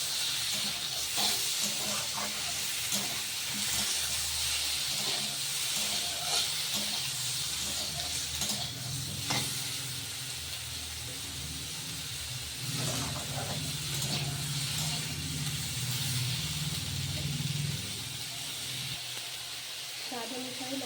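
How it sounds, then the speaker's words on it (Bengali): Chicken pieces for a chicken stew fry in a pan with a steady, close hiss and sizzle running throughout, while a person talks over the cooking. "চিকেনটা দিয়ে আমি হালকা ভাজা ভাজা করে নেব।"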